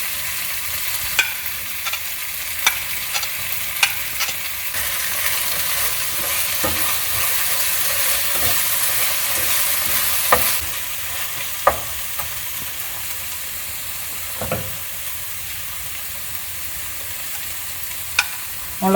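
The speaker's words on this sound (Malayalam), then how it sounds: "അപ്പോൾ സവാള തക്കാളി ഒരുമാതിരി വഴന്ന് വരുന്നു" Onions and tomatoes sautéing for chicken biryani hiss steadily in the pan, with intermittent clicks and scrapes from stirring throughout, close and continuous, no one talking.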